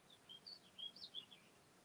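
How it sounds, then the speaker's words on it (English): Birds singing outdoors during a quiet meditation moment: faint, high chirps and short whistled phrases repeating in a loose rhythm over soft background hiss, fairly distant. "I can hear all the birds song."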